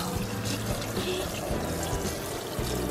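Water runs into a sink during tie-dyeing, a faint, steady splashing trickle with soft irregular dribbles throughout.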